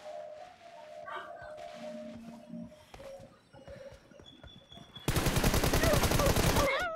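M416 automatic rifle fire in a team deathmatch video game, a sustained loud burst of rapid shots near the end, preceded by quieter game sounds and beeps.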